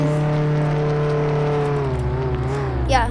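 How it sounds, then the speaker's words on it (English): A car engine drones loudly in the Roblox game Jailbreak, a steady humming whir with a low pitch that dips slightly near the end before a brief higher warble breaks in. "Car is too loud in there."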